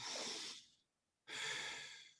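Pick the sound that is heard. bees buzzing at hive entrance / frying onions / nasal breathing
nasal breathing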